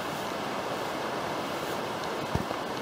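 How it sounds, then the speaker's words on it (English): A creek on the Rock Creek section of the Cumberland Trail roars at high water beside a campsite, a loud continuous broadband rush with no talking. "Creek is right there, roaring at high water."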